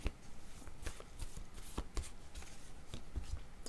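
Cards are shuffled and handled close by in a quiet room, producing soft, quick riffling flutters and light taps in an irregular rhythm.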